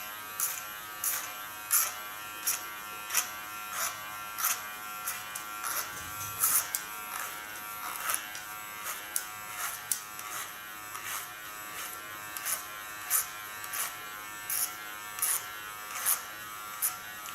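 Electric hair clippers buzz steadily as they cut a man's dry straight hair, with repeated short strokes pulsing in a regular rhythm close by and no talking.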